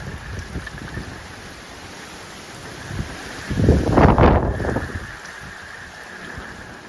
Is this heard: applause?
no